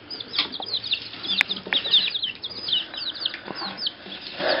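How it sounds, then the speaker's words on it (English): Chicks pecking and clucking while eating live worms, a busy close chorus of high cheeps and chirps with occasional soft wing flaps. "that's the chickens eating a worm here at Highland"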